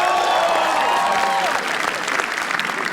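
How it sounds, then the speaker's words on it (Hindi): Audience at a comedy roast battle applauds comedian Shreya Prem Roy with loud, sustained clapping that eases slightly toward the end, with some crowd voices and a rising whoop-like cheer mixed in. "श्रेया प्रेम रॉय के लिए तालियां प्लीज"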